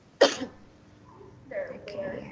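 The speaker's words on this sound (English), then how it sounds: "I think your cough is getting worse." A single sharp cough near the start, followed by quiet murmuring talk.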